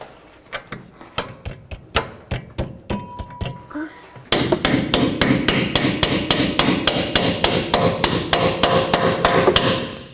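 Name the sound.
hammering a greased bolt into a steering knuckle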